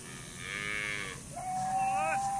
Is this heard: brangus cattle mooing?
yes